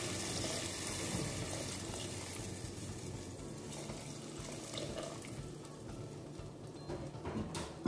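Hot water pours steadily into a cauliflower tajine sauce cooking in a pot, a continuous broadband splashing rush with faint sizzling, close and fairly quiet, no voices.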